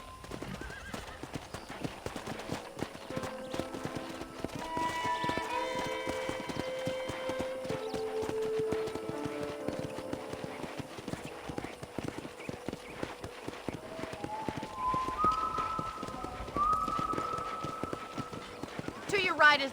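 Horse hooves clip-clopping steadily through the whole passage in the Red Dead Redemption ranch, with a horse neighing and people talking over the rhythmic hoofbeats.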